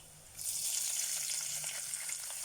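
Garlic in a hot pan bursts into a loud, crackling sizzle as two large spoonfuls of vinegar hit it, and the hiss stays strong and bubbling to the end.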